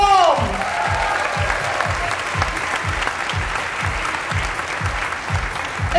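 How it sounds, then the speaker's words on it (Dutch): Audience applause for Josje Huisman, a jury member introduced at the Mister Gay Belgium 2018 gala, a loud, dense wash of clapping that holds steady throughout with a rhythmic thumping musical beat underneath. "Uw applaus voor Josje Huisman!"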